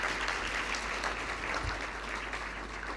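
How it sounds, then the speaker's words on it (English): An audience at an anniversary ceremony gives the principal guest a steady round of close, loud, continuous clapping with no speech over it. "Let us appreciate our principal guest with a more heartier clap."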